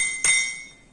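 A single sharp strike on a piece of glass, an amorphous solid, followed by a clear high ringing tone that slowly decays over about a second, close and alone with no voices.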